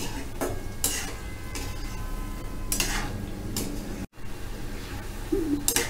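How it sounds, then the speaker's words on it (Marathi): Oats manchurian balls deep-fry in a pan of hot oil, with a steady hiss underneath. Scrapes and clinks of a utensil stirring the pan sound now and then over the frying. "कमीत कमी पाच मिनटं आपल्याला याला लागणार आहे तळायला"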